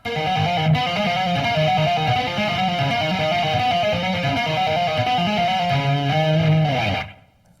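A distorted electric guitar plays fast, ringing tapped and hammered notes in a steady, continuous run, loud and alone, then cuts off abruptly near the end.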